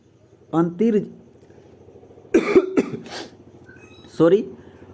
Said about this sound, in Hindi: थोड़ी खांसी आने वाली थी इसीलिए शांत हो गए थे